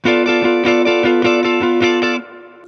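Distorted electric guitar chords strummed in quick, even triplet bursts, blues style, loud and rhythmic, ending with a short ringing fade.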